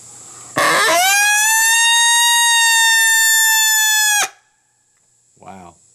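A loud, sustained howl from a person imitating an older coyote through a horn, held steady for several seconds, followed by a brief faint voice.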